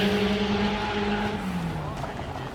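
An Alpine race car passes on the Linas-Montlhéry circuit, its engine note rising and then falling away, with people talking over the noise.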